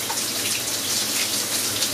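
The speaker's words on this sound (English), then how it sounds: "Look at this big metal nozzle that shoots out water." Water sprays hard and steadily from a big metal shower nozzle in a home, a dense, constant hiss with no voices.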